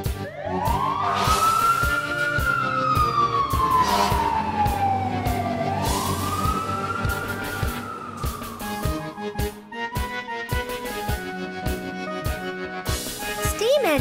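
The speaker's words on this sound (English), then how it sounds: "Fire engine." Fire engine siren wailing in long rising and falling sweeps, loud and close, over a low engine rumble and some intermittent sharp background noises.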